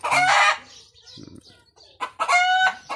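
Roosters and chickens on a small farm call out close by, with two loud bursts of clucking and crowing at the start and end and quieter fowl sounds scattered in between.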